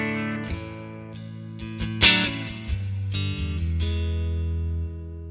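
Clean electric guitar through the Neural DSP Archetype Rabea plugin with delay and reverb rings out in sustained chords and single notes, each attack trailing into long shimmering echoes that blend into a lingering wash.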